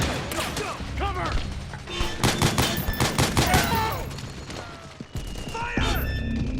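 Dense bursts of suppressing gunfire from a Metal Gear Solid 4 firefight at a mansion breach, with rapid overlapping volleys, thuds and crashes, shouted voices mixed in throughout.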